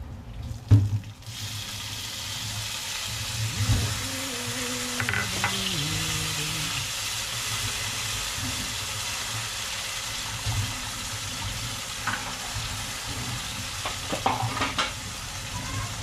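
Food sautés in a pan before tomato goes in, a steady close sizzle with occasional stirring scrapes and clinks, continuous and fairly quiet, no talk.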